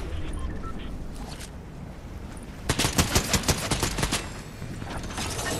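Rapid gunfire in a jungle shooter video game: a steady burst of about ten evenly spaced shots, loud and close, following a quieter stretch of game ambience.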